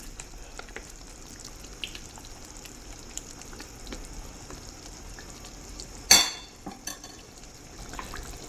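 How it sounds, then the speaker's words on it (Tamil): Anchovy fish curry simmers in a clay pot with a soft bubbling sizzle, while occasional gentle stirring clinks come through and one sharp scrape of a utensil against the pot cuts in near the end. "இப்போது மீனை லைட்டாக கிளறி விட்டுக்கலாங்க. ரொம்ப அதிகமாக கிளறக்கூடாது, மீன் குழஞ்சிடும்."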